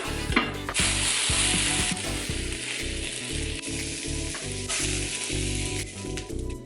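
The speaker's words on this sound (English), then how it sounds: "Now we're gonna cook our apples." Apple pieces with seasoning sizzle steadily in hot oil in a pan while being cooked to soften and brown for Porc a la Normande, with loud continuous crackling over a low rhythmic clatter of stirring throughout.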